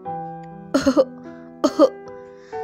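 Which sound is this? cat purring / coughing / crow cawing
coughing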